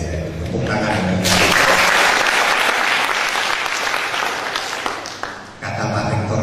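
A large audience at an Indonesian campus gathering breaks into loud, sustained applause after a quieter start, a thick roar of clapping for about four seconds before it drops away abruptly.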